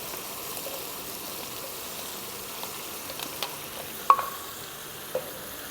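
Boiled onions go into hot oil with chicken in a karahi over medium-high flame, a faint steady sizzle with a few soft clinks of a stirring spoon.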